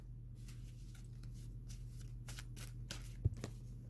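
A deck of playing cards being shuffled by hand at a desk, soft riffling and papery flutters repeating across the stretch with one sharp tap near the end, close and fairly quiet, with no talk.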